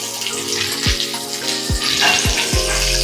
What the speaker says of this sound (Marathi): मच्छी सोडली, तेल पण गरम झालं.